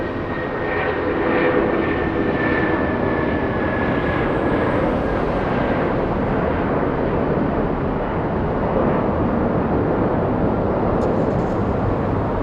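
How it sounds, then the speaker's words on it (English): Boeing 757 airliner taking off from Los Angeles LAX, a loud, steady broadband jet engine roar that stays strong throughout with a faint whining tone early on. "757 flying to Honolulu. Nice and pretty takeoff."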